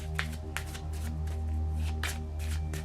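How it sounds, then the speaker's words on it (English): A deck of cards is riffle-shuffled by hand for a solo run of the Resident Evil 3 board game, giving several quick papery bursts over a steady low hum from the room. "I've shuffled the deck enough, I think."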